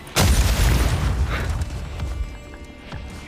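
A vehicle explodes in Call of Duty MW3 with a loud, close, deep boom that rumbles and fades over about three seconds.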